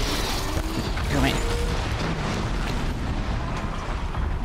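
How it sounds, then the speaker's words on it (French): A machine in the video game Horizon Zero Dawn erupts in a fiery explosion. A loud, dense roar of fire and rumbling debris runs unbroken for several seconds, close and filling the scene. "quand on s'approche trop près d'eux, ils font ça. Voilà ce qu'ils font. Une grosse explosion de feu."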